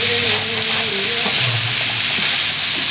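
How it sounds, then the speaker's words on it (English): Spice powder fries with stirring in a nearly dry pan for a festival menu dish, a loud steady sizzle and hiss close up with scraping stir sounds and no talk. "now just need to fry and finish"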